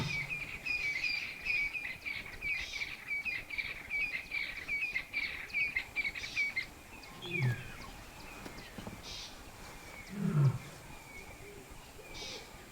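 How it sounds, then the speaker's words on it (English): A lioness in Botswana roars twice, low and moderately close, at a slow pace, after a stretch of busy bird chirping fills the air. "she lay down and started roaring loudly"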